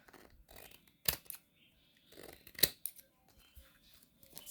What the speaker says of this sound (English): And again, we're going to cut that excess.